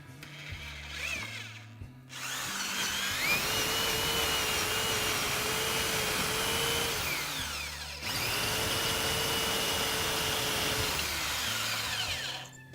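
A power drill with a 3/8 inch bit bores an angled hole through a wooden board toward a metal pipe, whirring in two long sustained runs with a brief pause between, the bit squealing faintly under load, close and loud.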